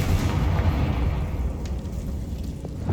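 A Confringo fire-blast spell in Hogwarts Legacy erupts as a loud, rumbling explosion at the start, then rolls into a long fading boom with crackling debris over a few seconds.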